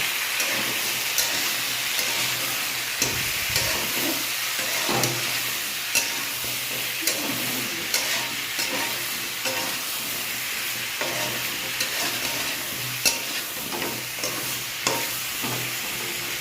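Vegetables frying in a pan with a little sugar added are stirred repeatedly, a constant loud sizzle punctuated by regular spatula scrapes and clicks every second or two, with no talking.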